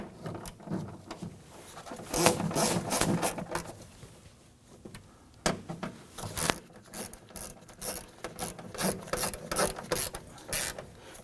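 A ratchet snugging down speaker screws inside a Ford Focus door, giving bursts of quick clicking strokes separated by brief pauses, close up and fairly quiet with no talking.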